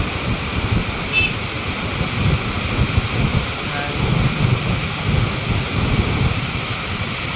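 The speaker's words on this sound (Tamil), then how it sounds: "பாருங்கள் தண்ணி எப்படி சூப்பராக போகுது." Rushing river water at Kallanai dam, a steady broadband roar of flowing water mixed with wind buffeting the microphone, continuous and fairly loud throughout.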